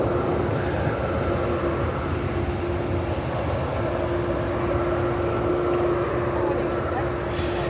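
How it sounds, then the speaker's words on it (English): A United Boeing 787-10 Dreamliner, arriving from Frankfurt at Chicago O'Hare, makes a steady broad roar with a constant engine whine throughout. "This is United 906 coming in from Frankfurt on the 787-10 Dreamliner"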